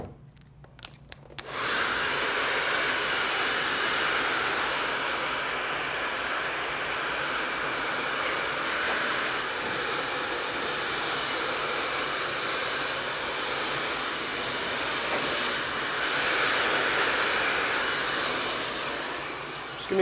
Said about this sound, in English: we're gonna go ahead and start blow drying the shape with a brush